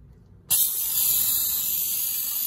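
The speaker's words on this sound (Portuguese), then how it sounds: "Esse é o spray que eu uso, ó, pra untar, ó." A can of cooking spray hisses continuously as it greases a cake pan, starting abruptly after a short quiet moment and holding a loud, steady, bright spray to the end.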